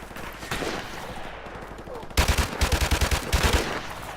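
Rapid bursts of gunfire from a G3 rifle in the Modern Warfare Remastered campaign, starting after a quieter stretch of distant shots and ambience, with several sharp, loud, evenly spaced reports close up.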